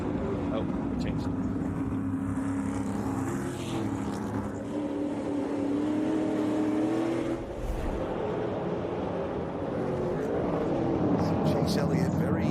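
An SRX race car at Sharon Speedway pulls off a corner on light throttle, a steady engine drone that holds, dips briefly, then swells again, with commentators talking over it.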